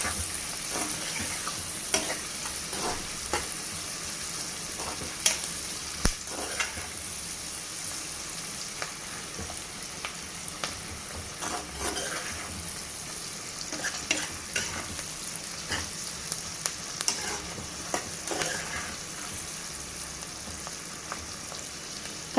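Onions frying in a pan for potato curry and being stirred, with a steady soft sizzle broken by repeated scraping and clinking stirs close up and no talk.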